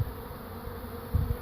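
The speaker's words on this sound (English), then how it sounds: "And I also got some bees on this side." Honey bees from an arriving swarm around hive boxes, a faint steady buzzing hum outdoors with a couple of closer low bumps.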